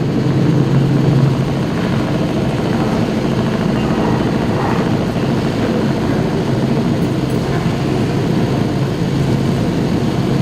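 An aircraft flies low over Valras beach, its dense, constant engine and rotor-like drone loud and unbroken throughout, with no talk over it.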